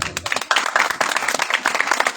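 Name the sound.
audience clapping loudly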